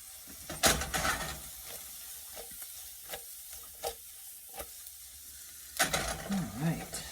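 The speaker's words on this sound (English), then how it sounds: "Alright, let this saute." Onions sauté in a pan for fried rice, a soft sizzle broken by scraping stir strokes and clatters, louder near the start and the end, with no one speaking.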